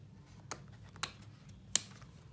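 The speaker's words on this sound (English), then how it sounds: "These are my fabric scissors, so they're pretty solid." Fabric scissors snip through fabric for a face mask, three short crisp cuts spaced apart, near and fairly quiet over a low background hum.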